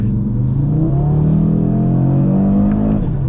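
A 2022 Audi RS3 with its five-cylinder engine accelerating hard, a loud, steady rising drone with layered harmonics climbing through the run and no pauses, heard close from inside or near the car.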